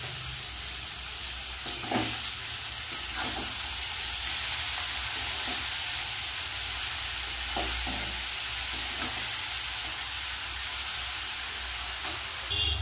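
Curry with shredded cabbage and chopped tomatoes sizzles steadily in a hot pan, with a spatula scraping and stirring through it at intervals, close and continuous.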